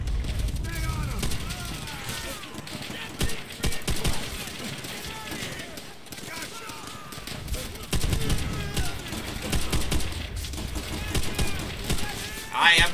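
Covering gunfire in Call of Duty: World at War, rattling bursts of rifle and machine-gun fire in irregular volleys, mid-distance, with shouting voices over the shooting.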